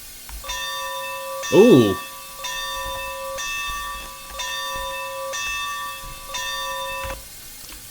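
Animated locomotive bell on a narrow gauge model railroad train, ringing in a steady sequence of about seven clear metallic strokes close by, with a brief exclamation from a voice early on.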